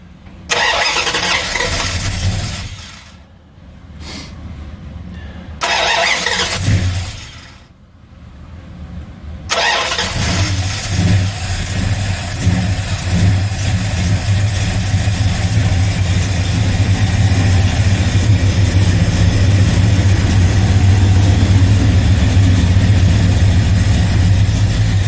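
Mopar 340 small-block V8 in a Dodge Dart cranking through two starter attempts with stumbling bursts, then catching and settling into a loud, steady, rumbling idle that runs on for about fifteen seconds.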